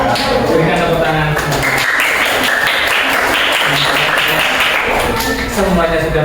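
Applause from a classroom audience at an Indonesian Islamic religious education teacher training session, steady clapping of moderate loudness with voices talking over it throughout.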